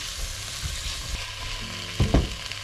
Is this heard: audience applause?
no